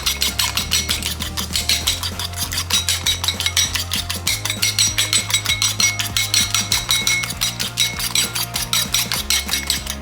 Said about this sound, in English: Give it all a good whisk together so that you get everything nice and combined